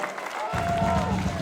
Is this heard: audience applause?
yes